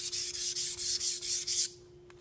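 A knife edge is stroked across a sharpening stone in about seven steady rasping passes, a close, bright scraping rhythm that stops abruptly near the end.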